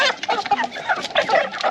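Chickens cluck and squawk close by as the last two birds are loaded into a crate, a steady run of agitated fowl calls.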